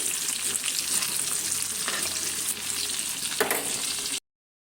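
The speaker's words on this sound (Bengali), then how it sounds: "মাছের মাথা লেঞ্জাগুলো ভাজা হচ্ছে" Fish heads and tails sizzling in a pan of hot oil, a steady close crackle with occasional stirring bursts, cutting off abruptly near the end.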